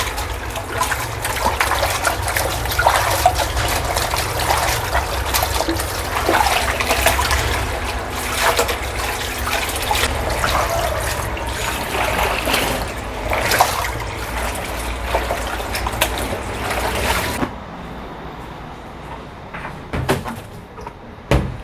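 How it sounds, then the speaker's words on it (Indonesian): Laundry is rinsed by hand in a tub of water, with continuous sloshing and splashing that runs close and steady for most of the time before dropping to a few scattered drips and knocks. "ini nanti dibilas 2 kali ya masing-masing. Bilasnya ya kayak gini aja."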